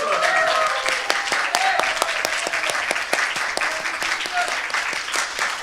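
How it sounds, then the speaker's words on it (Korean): A church congregation applauds after a baptism, dense continuous clapping filling the room at steady strength, with murmured voices mixed in. "박수."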